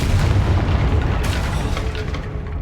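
A fiery blasting spell detonates in the game Hogwarts Legacy, a loud booming explosion that rumbles heavily at first and then tails off into a dense, roaring wash of debris and noise.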